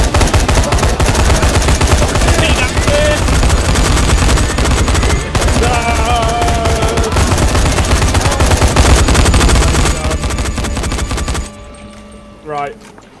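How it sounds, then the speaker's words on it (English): Rapid gunfire during co-op play of the zombie game Dying Light: dense bursts of automatic shots and impacts, loud and close, continuing for about eleven seconds before cutting off, with players talking over it. "Open fire."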